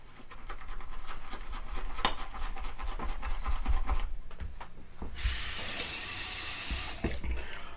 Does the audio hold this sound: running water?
yes